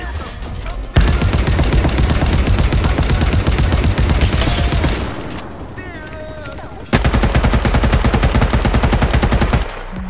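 Rapid automatic gunfire rattles in the shooter game High Energy Heroes, two long, loud continuous bursts separated by a short pause filled with electronic game effects.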